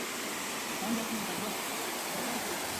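A stream of water flows into Lonar crater lake as a steady, even rushing wash, fairly close and unbroken throughout, with faint talk barely rising above it.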